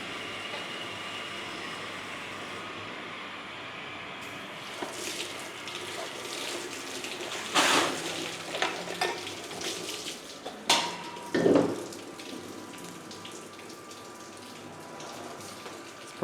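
Tap water running steadily as a metal milking machine filter cage is rinsed on a dairy farm, a soft continuous hiss with a few louder clanks and splashes.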